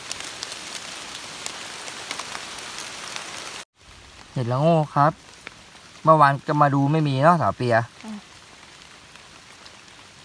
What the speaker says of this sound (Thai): ฝนตกแรงมากครับ ทุกคน